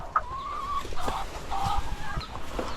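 Hens in a backyard coop cluck and murmur up close during egg gathering, with a couple of drawn-out calls among short clucks.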